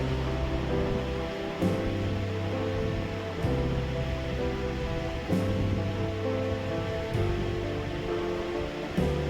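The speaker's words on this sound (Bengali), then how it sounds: "আলু অ্যাড করে আরও 3-4 মিনিট মতো আমি এটাকে কষিয়ে নেব।" Spicy chicken pieces with potatoes sizzle and fry in a pan for a Bengali kosha, a steady close hiss broken by a spoon scraping through about every two seconds, no talking.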